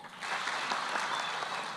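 A crowd applauds steadily at a public gathering for a young woman who has just spoken, the clapping dense and sustained after a brief quieter start, with no talk over it.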